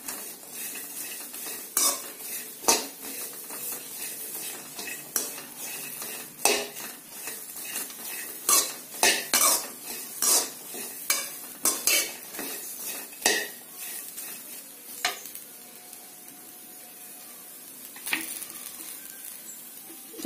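Chopped bitter gourd being stirred and fried in a pan, with repeated scraping and clinking of a utensil against the cookware over a soft, steady sizzle, close up and with no talking.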